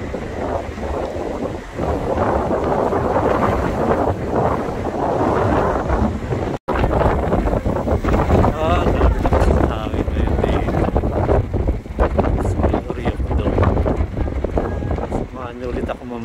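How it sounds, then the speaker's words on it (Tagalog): Strong wind at Oryukdo Skywalk in Busan buffets the microphone in loud, continuous gusts with broadband rumble, sea noise beneath, nearly unbroken except one brief dropout. "Lakas lang ang hangin."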